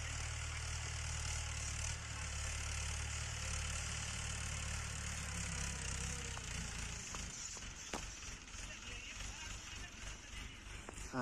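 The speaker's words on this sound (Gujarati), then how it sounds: "ટ્રેક્ટર ચાલુ છે।" Farm tractor engine running out in a field, a steady low idling rumble close by that holds through most of the stretch and then breaks into rougher, uneven pulses near the end.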